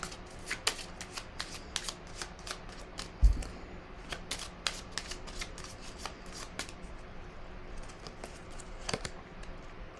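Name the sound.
shuffling cards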